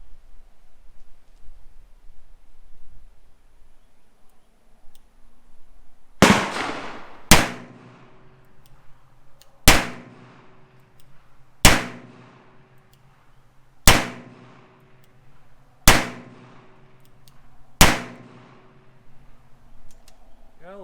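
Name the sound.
Smith & Wesson Model 10 revolver firing .38 rounds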